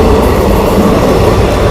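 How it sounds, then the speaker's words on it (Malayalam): A night train passes southbound through the Trivandrum South area in a loud, continuous rumble and clatter of wheels on rails, heard close up with no voices. "ട്രെയിൻ കടന്നു വന്ന വീഡിയോ ആണ് നമ്മളെ കാണുന്നത്."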